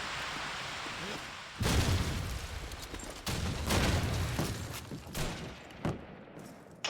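Sniper rifle gunfire in a Call of Duty 2 competitive match, several loud cracking shots in a row, each with a short echoing tail, under a continuous hiss of background game noise.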